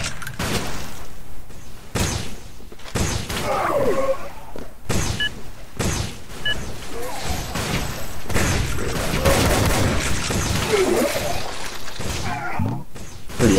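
Shotgun blasts and other gunfire crack through a public capture-the-flag shooter match on the HOCTF map, with dense, loud bursts of shots and impacts overlapping almost continuously.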